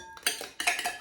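Cans of cream of mushroom soup emptied into a dish, with a few close, quick clinks and scrapes of a metal utensil against the can and cookware, over in about a second.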